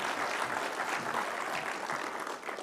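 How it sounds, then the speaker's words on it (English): At a social sector summit, an audience applauds to welcome Minister Zulu: a dense, steady patter of clapping that holds evenly for a few seconds and dips slightly at the end. "Can we welcome her with a round of applause?"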